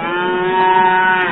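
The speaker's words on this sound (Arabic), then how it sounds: "هوار البقرة" A cow lets out one loud, sustained moo, steady and close, swelling slightly toward the end, with nothing else heard.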